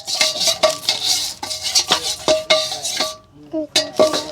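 Eggs and vegetables are stir-fried in a pan, with a metal utensil clinking and scraping against it in quick irregular strokes and the food sizzling underneath.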